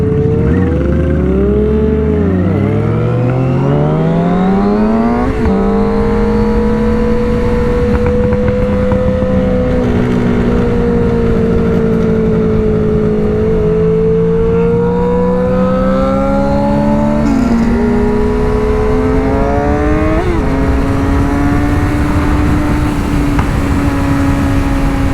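A car cruising downtown with its engine loud and close, rising and falling through sustained revs and gear changes, the drone swelling and easing over a long stretch.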